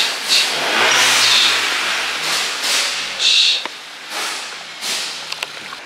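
A Mercedes CLA45 fitted with a new blow-off valve revs in several short bursts, each followed by a hissing whoosh of released air, fairly close and loud with pauses between.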